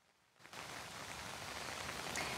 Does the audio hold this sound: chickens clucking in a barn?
no